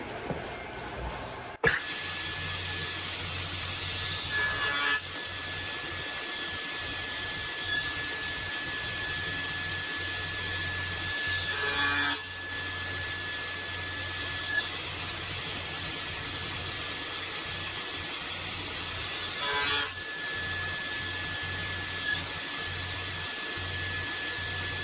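A saw cuts corner spline notches into a hickory and wenge chess board: a steady loud machine whine runs throughout, with four brief bursts marking each cut into the wood.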